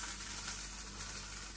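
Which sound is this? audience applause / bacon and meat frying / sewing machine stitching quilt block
bacon and meat frying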